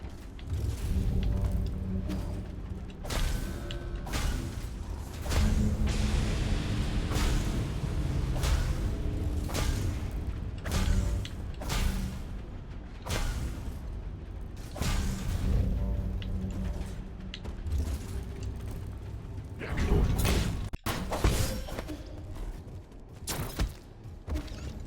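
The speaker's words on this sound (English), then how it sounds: "Up, you fucking slow elevator!" A slow elevator in the video game Nine Sols grinds along with a steady mechanical drone, creaking and ratcheting gears, and intermittent thumps, loud and continuous throughout.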